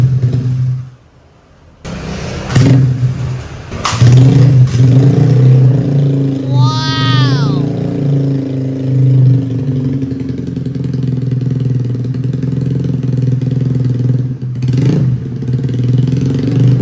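A carbureted Honda Beat scooter engine, spec 54, starts for the first time and keeps running steadily at close range, with a brief rising rev partway through and people talking over it.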